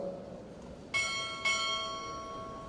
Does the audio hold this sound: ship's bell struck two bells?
yes